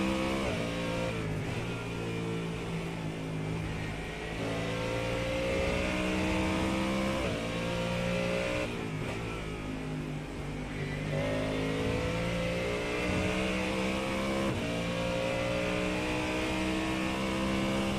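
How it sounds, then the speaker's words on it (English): Ford Mustang GT3 race car in iRacing, lapping Monza in a GT3 league race: a loud, continuous engine roar with repeated rising pitch sweeps through the gears, heard alone without talk. "Great view of the Mustang and great sounding car."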